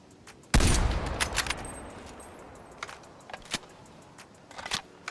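Reload of the LW3 Tundra rifle in Call of Duty Cold War: a sharp loud shot opens, followed by a run of close, crisp metallic clicks, scoops and snaps of the mechanism spaced across the rest of the clip.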